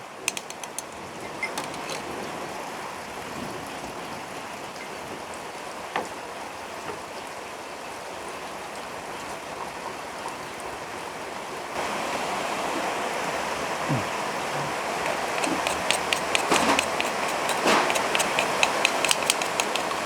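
Rain falls over rural Isan countryside with flooded fields, a continuous soft hiss and patter that grows denser partway through, with scattered close drips and no talk.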